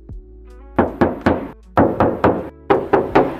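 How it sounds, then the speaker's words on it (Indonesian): Knuckles rap on the metal body panel of a 2017 Toyota Sienta Q automatic in quick groups of hollow, resonant knocks, three then three then three, close and loud. "kita mau tes ketok dulu untuk kondisi cupnya ya"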